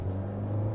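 A sports car engine on a proving ground, a brief, loud and steady low rumbling drone with a strong hum.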